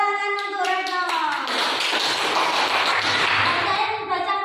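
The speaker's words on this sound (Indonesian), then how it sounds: "tepuk tangan untuk Retno" Classroom applause for a student named Retno, a burst of hand clapping from a group that starts after a tonal voice-like sound and fills the clip, then fades near the end.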